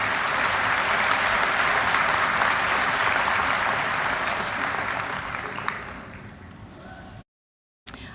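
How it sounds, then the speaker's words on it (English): Audience applause at a university winter commencement ceremony, a dense, steady clapping that holds for about seven seconds, eases slightly toward the end and then cuts out abruptly. "Please give them a warm round of applause."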